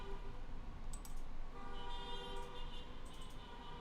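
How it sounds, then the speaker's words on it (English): Car horns toot in short bursts out on a city street, faint and distant against a steady background hum, with several overlapping honks. "What are they honking for?"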